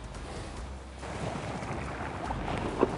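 Wind blows across the water at dusk during a seabass fishing outing, a steady broad rushing that swells stronger after the first second and stays continuous, with no voices.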